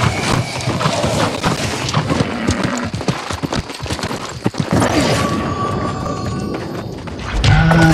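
Horse hooves clip-clopping along a road in the New World MMO game, a loud, steady galloping rhythm running through the whole stretch amid other game sounds.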